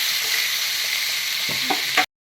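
Spice paste with Kashmiri chili and salt frying in oil for a mustard rohu fish curry, a continuous close hiss of sizzling with a few soft stirring scrapes near the end before it cuts off.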